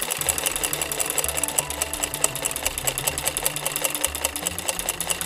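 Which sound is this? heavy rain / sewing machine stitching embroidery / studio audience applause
sewing machine stitching embroidery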